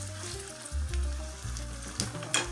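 Ground beef frying in a pan sizzles steadily while being stirred, with soft scraping and clicks of the utensil against the pan close up.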